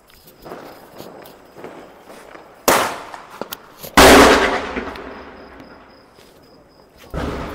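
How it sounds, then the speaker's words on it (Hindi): Diwali bullet bomb firecrackers go off outdoors: two sharp, loud blasts a second or so apart, the second with a crackling tail, amid faint footsteps and background clatter. "अभी हम इस बुलेट बम को जो है छोड़ने वाले हैं"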